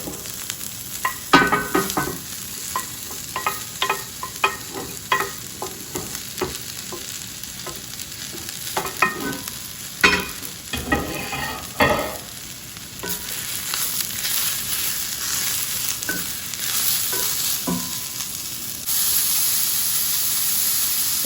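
Mushrooms sizzle and fry in a pan with caramelized onions, a steady close hiss broken by bursts of stirring and scraping, growing louder and denser toward the end.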